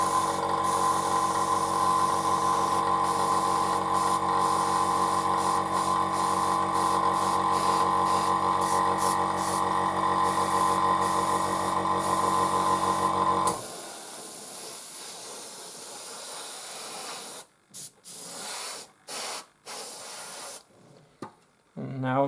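Airbrush spraying paint onto a Panzer IV model, a loud steady hiss that runs unbroken for about thirteen seconds, then drops away into quieter, intermittent bursts of spray and short pauses.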